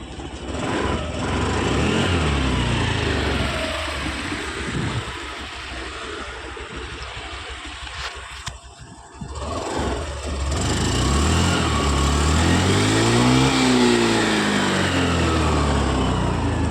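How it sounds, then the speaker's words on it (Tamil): A Honda Dio BS6 scooter engine runs steadily after a self-start, a loud continuous idle with a brief dip midway before it picks back up and rises in pitch as if lightly revved. "வண்டி வந்து பக்காவாக ஸ்டார்ட் ஆகி ஓடிக்கிட்டு இருக்குது"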